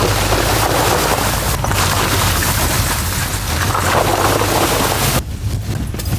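Steady rain falls on a puddled forest track, a dense, even hiss that continues without pause and thins briefly near the end.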